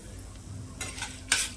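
Chana dal and urad dal being lightly sautéed in oil make a quiet sizzle, then two brief bursts of stirring as a spoon scrapes and turns the lentils in the pan.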